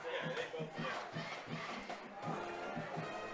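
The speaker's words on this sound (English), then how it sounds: "we certainly have a lively crowd here tonight" A lively crowd at a high school football game, Central Mountain against Williamsport, a loud, sustained roar of many voices with rhythmic chanting pulses, heard from amid the stands.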